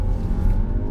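A 2017 Skoda Superb accelerating with its gearbox in fully manual mode, a brief, loud and steady engine drone heard from inside the car.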